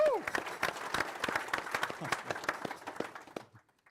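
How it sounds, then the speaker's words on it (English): A studio audience at a Cheltenham Festival preview show claps in a short burst of applause that fades out after about three and a half seconds, with some voices and a whoop mixed in. "Give him a round of applause."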